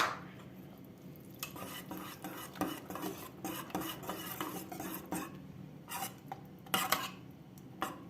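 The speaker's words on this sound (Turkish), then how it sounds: "Yarmamızı dökelim. karıştırayım." A spoon stirs cracked wheat into a soup pot for Turkish yayla soup, giving intermittent scraping and clinking strokes against the pot at close range over a low simmering background, with no talking.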